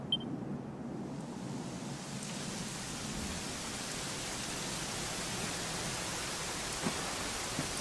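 Steady rain falls in the video game Dragon Quest XI, a constant even hiss of downpour with a few faint drips, heard alone without talk.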